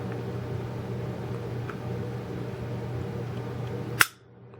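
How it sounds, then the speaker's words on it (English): An empty S&W SD40VE handgun is dry-fired once, giving a single sharp trigger click near the end after a steady quiet room hiss, with silence right after. "We'll fire that off once. You can see we are empty, so you can see the trigger."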